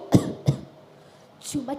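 A man, a father setting off to the fields with his tools, coughs twice in quick succession, then gives a rougher throat-clearing rasp moments later, close and fairly loud.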